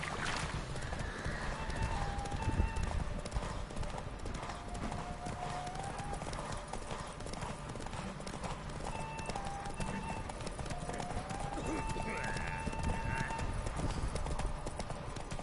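A horse gallops in The Witcher 3: Wild Hunt, rapid rhythmic hoofbeats steady and close for the whole stretch, with game music tones faintly beneath.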